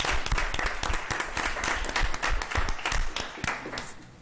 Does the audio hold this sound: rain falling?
no